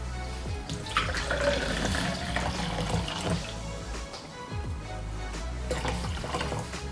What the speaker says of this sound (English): Let's pour some water out and see how well it works.